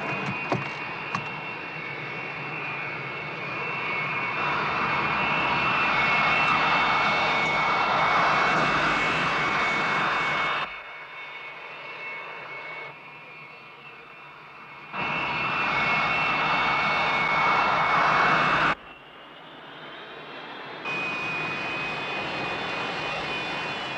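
A small airplane's engine runs steadily before takeoff, a loud continuous droning hum with a high whine that cuts in and out in abrupt sections, with no talk.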